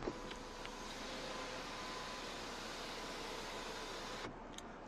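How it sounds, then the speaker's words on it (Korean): A Ford Explorer 3.5 4WD Limited sunroof powers open with a steady, even motor-and-rail hum that holds for several seconds before stopping, with no rattles, inside the quiet cabin. "썬루프 한번 개방해 볼 건데요."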